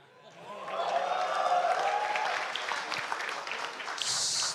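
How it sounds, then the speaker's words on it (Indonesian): Audience applause at a political youth dialogue event, a dense sustained wash of clapping mixed with crowd noise and a voice over it, lasting the whole stretch with a brighter burst near the end. "Gak usah tepuk tangan, biasa aja."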